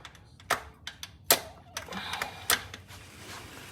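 A piston being tapped out of a Jeep engine block: several sharp metallic knocks at uneven intervals, close, with quieter clatter between them.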